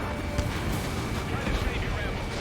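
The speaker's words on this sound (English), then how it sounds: "Missile launch" A missile launches with a loud roaring whoosh in Ace Combat 7, layered with rumbling booms in a dense, continuous battle din.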